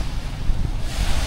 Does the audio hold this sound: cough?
no